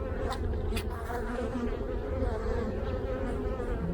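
Honeybees buzzing around an opened hive during the first inspection of the year in February, a dense continuous drone close by with a few louder passes of single bees near the start.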